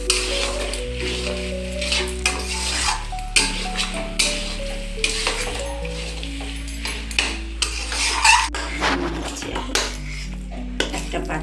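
A spoon scrapes and clinks against a pot as chicken cooked with cabbage is stirred, with a steady sizzle underneath and irregular metallic knocks throughout, close and moderately loud with no talking.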